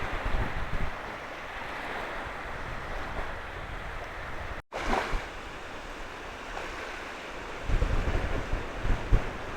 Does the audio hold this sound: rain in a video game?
no